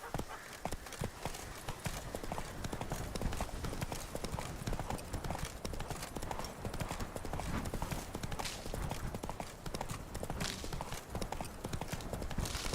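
Roach, the horse in a video game, clip-clopping in a dense, steady rhythm of hoofbeats, loud and close throughout, with a faint voice now and then.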